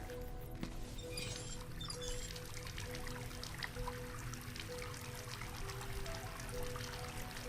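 Water running from a sink onto a glass slide being washed, a faint, steady pouring trickle that goes on unbroken against a low background hum, with no voices.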